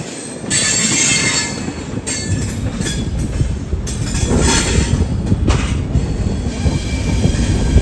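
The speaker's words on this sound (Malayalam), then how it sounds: "ഇത് പൂനെന്ന് ലക്നൗ പോകുന്നൊരു എക്സ്പ്രസ് ട്രെയിൻ ആട്ടോ." An express train running from Pune to Lucknow passes close by: a loud, steady rumble of rolling wagons with clattering wheels and recurring high metallic squeals, continuous and unbroken throughout.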